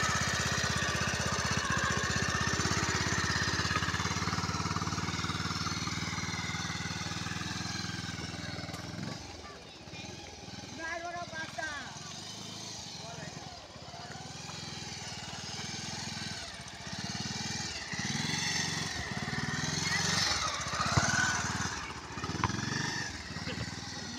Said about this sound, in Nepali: बाइकमा त झन् ओभरै छ, किन भन्दाखेरि हावाले स्याहाँ गरेर आवाज आउँछ नि त